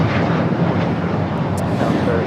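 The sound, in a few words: Delta Airlines Boeing 737-800 jet taking off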